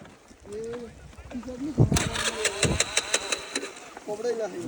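A small scooter engine sputters and catches after a brief voice, then revs in uneven bursts up close while someone speaks over it.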